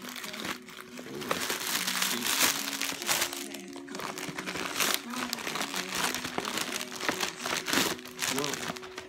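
Gift wrapping is torn open and crinkled during an anniversary unwrapping, paper crackling and rustling in repeated close bursts while a person talks over it.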